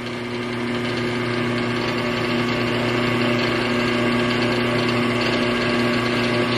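A WEN 4225 15-inch variable-speed drill press motor runs at a loud, close, steady hum with strong tonal lines, holding a constant drone throughout with no talk.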